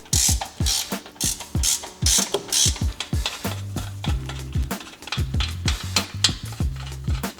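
A hand ratchet clicks rapidly in close, repeated strokes while backing out 17mm and 14mm bolts from a Lexus GX550 crash bar, the pawl's sharp ticks forming an uneven steady rhythm with brief pauses.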